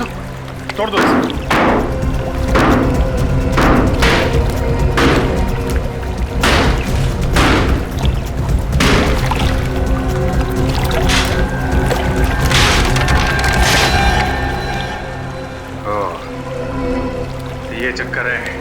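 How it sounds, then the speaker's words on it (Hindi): Heavy thuds and crashing blows ring out while digging into and breaking open a water tank. The impacts are loud, close and irregular over a steady background din, and water may be audible. "खोदो, तोड़ दो इसे।"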